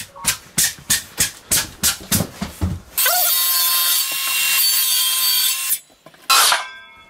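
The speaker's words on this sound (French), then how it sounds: "la scie sauteuse, ça va tout seul" Rhythmic rasping strokes of a saw through wood, then a jigsaw whines loudly and steadily cutting a SOLIVBOX attic insulation panel before stopping and briefly starting again.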